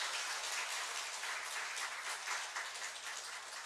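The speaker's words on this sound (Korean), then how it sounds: "박수 주세요." A church congregation claps for a member called forward during a Sunday afternoon service, a soft, even patter of applause from the room with no voices.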